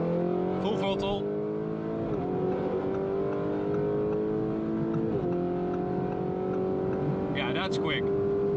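Lamborghini Urus Mansory Venatus SUV at full throttle on the Autobahn, cabin-heard engine drone rising steadily through gears with short shift dips, continuous and moderately loud.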